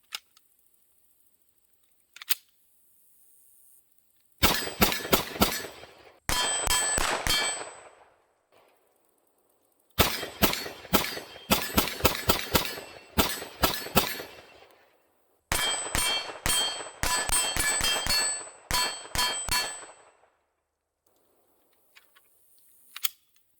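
9mm pistol rounds strike AR500 steel targets in several quick strings, each a ringing metallic clang that decays between hits, with loud bursts separated by short silent pauses.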